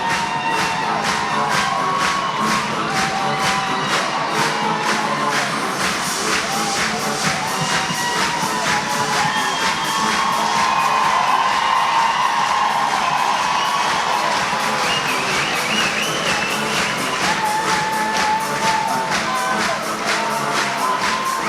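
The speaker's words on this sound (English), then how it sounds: "So many people clapping and cheering for this horse." A large crowd at a horse championship claps and cheers continuously for a horse, a dense wash of applause with scattered shouts and whoops, loud and sustained throughout.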